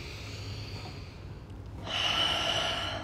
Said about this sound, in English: Taking another breath.